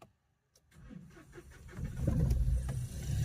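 A Mahindra Bolero with a suspected damaged fuel pump cranks after a brief silence, then catches and settles into a rising, steady engine rumble, close and fairly loud.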